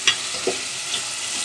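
Crabs dropped into a hot pan of partly fried masala for Andhra-style crab pulusu give a steady close sizzle with a couple of brief clatters from stirring, no talking.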